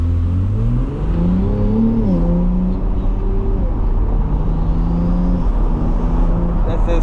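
A 2024 Ferrari 296 GTB's turbocharged engine accelerates hard, revving up through rising gear pulls with a loud, continuous roar heard from inside the car, turbo whistle and whir layered over the engine note.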